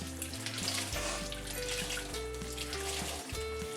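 Running tap water splashes and trickles steadily into a sink as a sponge is rinsed, a close, continuous wash of water with faint musical tones underneath.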